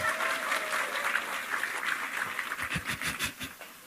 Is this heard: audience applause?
yes